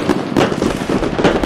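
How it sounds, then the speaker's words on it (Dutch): Fireworks set off on a rooftop, a dense rapid crackling of many small bursts, loud and close with no break. "De vuurwerk gaat eraf."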